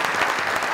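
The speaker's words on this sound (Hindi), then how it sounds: "इनके लिए हम ताली बजाएंगे सर" A studio audience claps at a Pakistani comedy talk show, a dense, steady burst of applause heard close and alone for under a second.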